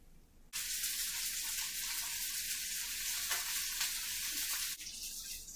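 Dried red chilies fry in a pan for a chutney, giving a loud, steady sizzle that starts abruptly and carries on evenly, with faint stirring movements inside it before it drops slightly at the end.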